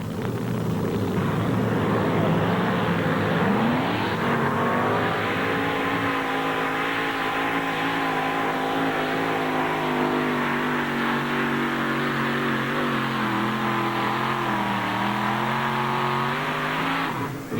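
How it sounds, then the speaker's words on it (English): A supercharged 500 cubic inch engine in a Chevrolet El Camino two-wheel-drive pulling truck at a 1988 Tomah, Wisconsin truck pull roars loud and close, climbing in pitch as it revs up and then holding a sustained, heavy drone. "Watch the butterflies open up as that big supercharger comes to life on this 500 cubic inch engine"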